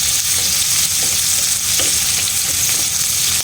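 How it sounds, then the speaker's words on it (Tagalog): Chili peppers sauté in hot oil in a pan while crab in coconut milk with squash is being prepared, making a loud, continuous hiss with faint stirring movements through it. "igisa natin ang sili para medyo maanghang siya"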